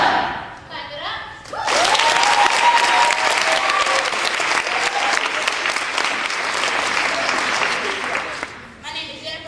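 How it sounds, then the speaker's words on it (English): An audience breaks into loud, dense applause at a youth group's opening day event, a sustained wash of clapping for several seconds that fades out, with a few voices before and after it. "Clap it up."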